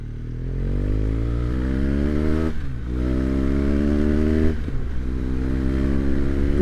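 A BMW GS motorcycle engine revs up in repeated rising sweeps while being ridden, loud and steady with two brief dips as the rider shifts, then climbs again.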